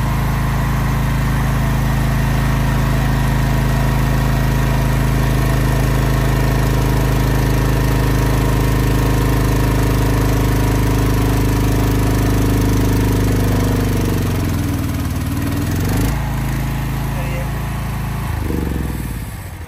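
Running 10 kVA diesel generator set loaded with a cold water load, a loud steady engine drone with deep hum, shifting pitch near the end as the load changes, with someone talking over it.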